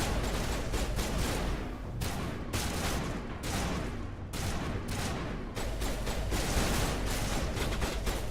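Sustained video game gunfire from a mining and galaxy-saving shooter, dense overlapping shots and bursts rattling continuously at loud, steady volume for several seconds with no talk.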